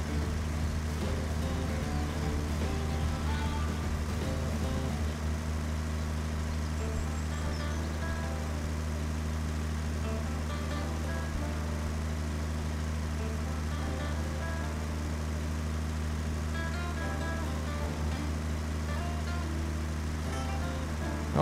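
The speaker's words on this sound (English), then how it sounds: "Okay, Van, you're about to get passed by a tractor." A tractor in Pure Farming 2018 drives along a Montana road with a steady low diesel engine drone, its harmonic hum continuous and even for the whole stretch, with faint mechanical clatter on top.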